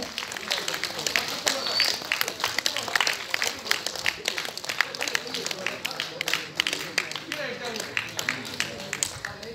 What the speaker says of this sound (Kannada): ಜೋರಾಗಿ ಚಪ್ಪಾಳೆ ತಟ್ಟಿ ಪ್ರೋತ್ಸಾಹ ಮಾಡಬೇಕು ನಮ್ಮ ಈ ಒಂದು ಚಲನಚಿತ್ರಕ್ಕೆ ಮತ್ತು ಆಡಿಯೋ ರಿಲೀಸ್ಗೆ